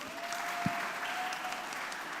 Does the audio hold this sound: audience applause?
yes